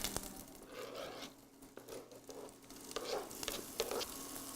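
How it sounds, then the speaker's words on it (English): Chopped onion sautés in olive oil in a skillet, with a soft, steady sizzle and bursts of crackling as the pieces are stirred and scraped around the pan. "So I put onion to saute in olive oil."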